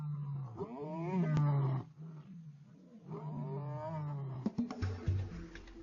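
Lions at a wildlife reserve roar close by in deep, rumbling, groaning bursts, two long roars separated by a short pause, then a few shorter grunts, with no voices.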